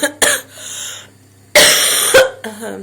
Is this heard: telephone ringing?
no